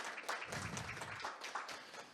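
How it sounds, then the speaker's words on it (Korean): Applause from teachers gathered at a primary teachers' union meeting, a brief patter of clapping from a fairly small crowd, faint and a little distant, lasting about two seconds. "큰 박수 부탁드리겠습니다"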